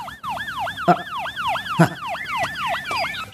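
A police car siren cycles rapidly in a fast, steady yelp, loud and close, with two sharp thumps breaking through it.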